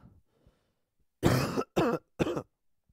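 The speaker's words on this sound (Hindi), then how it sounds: "गला इतना छिला पड़ा है बहुत ज्यादा खांसी आते" Three harsh coughs from a person with a raw, sore throat, in quick succession, close and loud, after a moment of near silence.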